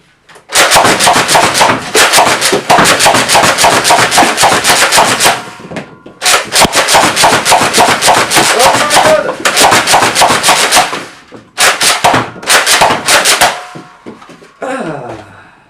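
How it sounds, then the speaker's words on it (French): A Nerf Rival Hades XVIII-6000 blaster is slam-fired in long rapid bursts, a dense mechanical rattle of balls launching close and loud, broken by short pauses before trailing off. "je pense que je vais le vider en slam, parce que bah ça donne envie quoi."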